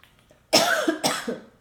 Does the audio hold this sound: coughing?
yes